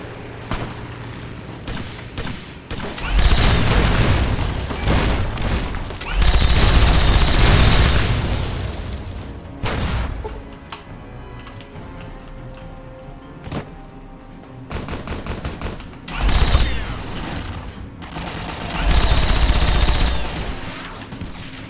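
Carpet bombing in the Fallout: New Vegas video game brings repeated heavy booms and bursts of gunfire, with loud waves of explosions coming in several clusters and quieter crackling between them.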